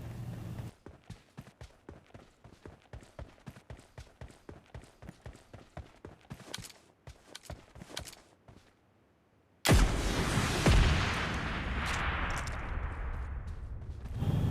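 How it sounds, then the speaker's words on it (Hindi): Mini 14 rifle fire in the mobile game PUBG Lite, aimed at a buggy's tires: a fast, even string of sharp cracks, then a sudden loud roaring wash of noise. "एक मिनी 14 चला के मेरे बग्गी के टायर फोड़ने की कोशिश करता है और आगे की तरफ यार फायर होता है"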